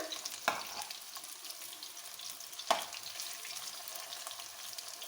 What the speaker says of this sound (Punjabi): ਤੇ ਹੁਣ ਅਸੀਂ ਕਰੇਲਿਆਂ ਨੂੰ ਵਧੀਆ ਤਰ੍ਹਾਂ ਸਾਈਡ ਬਦਲ ਬਦਲ ਕੇ ਫਰਾਈ ਕਰ ਲਾਂਗੇ